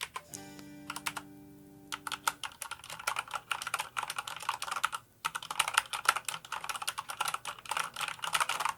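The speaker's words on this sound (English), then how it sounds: "the Cherry MX fast speed switches, they feel fantastic. Let me go ahead and do a little sound test for you." Rapid clicky typing on a keyboard with Cherry MX Speed switches, close and crisp in uneven bursts with a brief pause midway.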